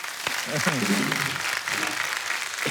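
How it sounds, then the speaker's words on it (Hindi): A studio audience at a comedy show claps steadily throughout, with a voice talking over the applause. "एक बार जोरदार ताली हो जाए जरा।"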